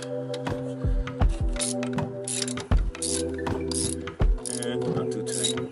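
A ratchet works on carburetor bolts, its quick clicking runs repeating in short bursts over a steady hum, close by, with brief gaps between strokes.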